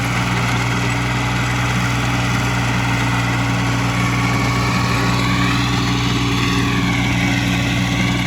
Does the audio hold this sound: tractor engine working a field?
yes